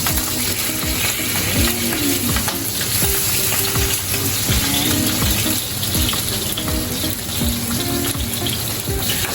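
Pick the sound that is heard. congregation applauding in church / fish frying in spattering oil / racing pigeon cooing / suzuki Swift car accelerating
fish frying in spattering oil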